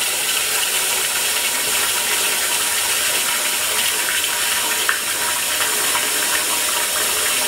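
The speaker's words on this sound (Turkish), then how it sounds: "Şimdi pirincimizi yıkayalım." Rice being rinsed under running water in a strainer, a steady loud splashing flow that goes on without a break and includes one small clink.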